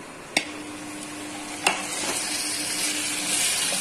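Capsicum and onions, fried earlier, stirred into kadai paneer in a kadai: a steady close sizzle with a few sharp spoon knocks against the pan, no voices.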